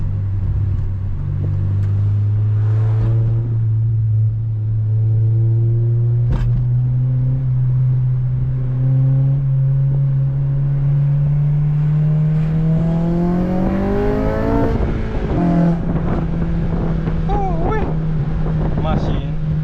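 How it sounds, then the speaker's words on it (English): An 8th-generation Honda Civic Si with VTEC is driven in traffic, its exhaust a steady low drone under wind noise that climbs in pitch through a gear pull near the end, then settles again. "Hopefully I can hear this exhaust."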